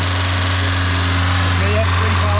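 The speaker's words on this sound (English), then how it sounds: "Give it a good rev" An old, long-unused car engine runs close by with a steady, deep throbbing hum that holds a fairly even pitch throughout, with no sharp climb in revs.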